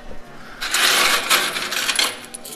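A burst of coins drops and clatters inside a coin-pusher arcade game, a loud cascade of metallic jingles lasting over a second, then dying away into a few stray clinks.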